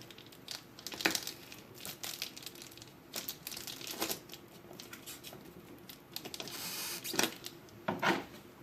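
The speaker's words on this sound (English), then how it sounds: "so we're just going to punch a little hole through here" A knife punches a small hole through material while building a DIY seed-starting shelf, giving scattered close clicks, taps and crinkling bursts over a quiet background.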